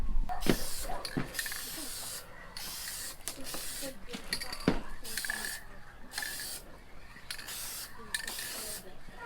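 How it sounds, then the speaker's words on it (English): Aerosol primer sprayed onto plastic car side skirts for a turbocharged Subaru BRZ, heard as close hissing bursts of varying length with brief gaps and small clicks and handling noises between them. "use this plastic adhesion promoter and lay on the first layer of primer"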